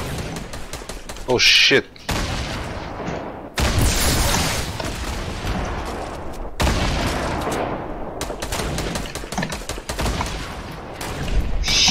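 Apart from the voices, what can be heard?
gunfire in a video game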